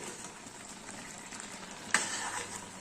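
Carrot halwa with milk that has nearly cooked down keeps sizzling and bubbling steadily in a pan, and a brief sharp scrape of stirring cuts in near the end.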